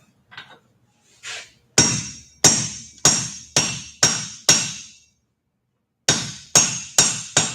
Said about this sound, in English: now I'm gonna go ahead and cut it off. See, this is what I'm talking about. With this single bevel hot cut